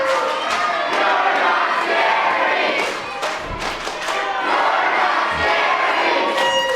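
A wrestling crowd in an arena at an East Coast Pro Wrestling show roars steadily, with shouting, cheers and a couple of low thuds from the ring underneath.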